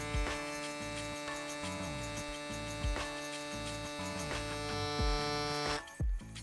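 An electric hair clipper with a vector motor (model 015) hums and buzzes steadily, with a few soft clicks and handling taps, ending with a brief rustle.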